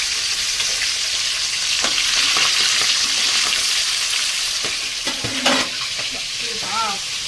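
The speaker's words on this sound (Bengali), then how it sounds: "নাড়া দিলেই ওই দেখো নাড়া দিলেই পটক পটক করে খাচ্ছে" Tangra fish fry in hot oil with a dense, loud sizzle, while stirring brings scattered crackles, pops and utensil knocks, and a brief whistle-like chirp near the end.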